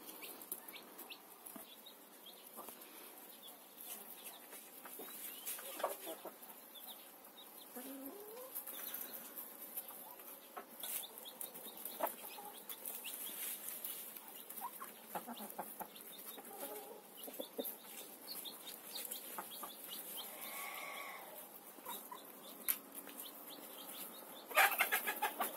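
Hens clucking softly around a small orphaned chick, with occasional wing flaps and scattered pecking at a scrap of zucchini, faint and steady outdoors in a rural yard.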